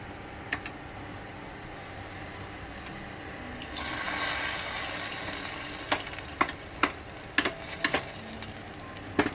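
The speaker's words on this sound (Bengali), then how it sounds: "তো ভাজা হয়ে গেছে, এখন আমি এটাকে ডালের ভেতরে ঢেলে দেবো।" Hot spice tempering of chilli and onion is poured into boiled lentils, setting off a brief rush of hissing sizzle, then a series of sharp knocks and clinks of a utensil against the pot, close and quiet, with no talk.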